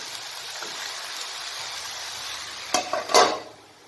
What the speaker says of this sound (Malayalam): ഇനി നമുക്ക് ഒന്നുകൂടെ തുറന്ന് നോക്കാം, ഇളക്കി നോക്കാം.